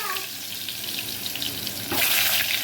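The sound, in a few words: whole potatoes frying in oil in a pressure cooker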